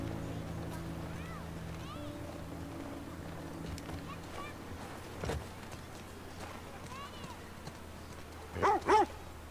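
An old dog barks in The Last of Us Part II, two loud, close barks near the end after a stretch of quiet ambience and faint background tones.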